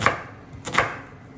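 A knife chopping food into large chunks on a board, two crisp close strokes about half a second apart, with nothing else around them.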